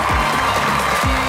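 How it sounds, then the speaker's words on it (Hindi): Studio audience applause greeting comedian Ashraf Khan as he comes on stage at a talk show, a steady dense wash of clapping filling the short moment, with a faint voice underneath. "आप सबकी तालियों में तशरीफ़ लाते हैं अशरफ खान साहब।"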